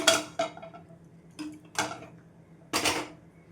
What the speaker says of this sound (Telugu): ఒక ప్యాన్ పెట్టేసుకుందాం